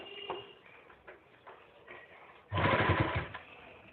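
A sewing machine runs a short burst of stitching on the pleats of a Patiala salwar, loud and steady for about a second after a few faint, scattered clicks and handling sounds.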